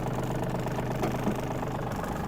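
A Yanmar RS-27 Japanese mini tractor engine idles nearby with a steady, even low rumble and no talk.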